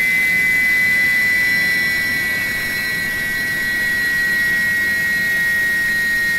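Airbus A300 jet engines spooling down in a flight simulator game, a steady broadband roar with a high whine that holds through the clip, loud and continuous, with no talking.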